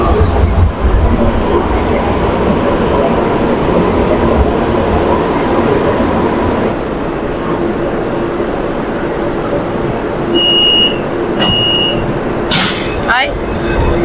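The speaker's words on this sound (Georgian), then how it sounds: "აი მატარებელიც გამოჩნდა" A metro train pulls into a station in China, a steady, loud rolling rumble that fills the platform, with a few high tonal beeps and a sharp clatter near the end.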